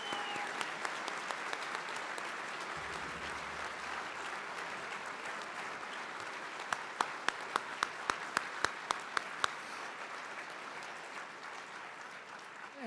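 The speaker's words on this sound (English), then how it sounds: "Let's give our awardees another round of applause." Applause for awardees fills a banquet hall at an awards dinner, a sustained steady crowd clapping with a few sharper nearby claps standing out toward the middle.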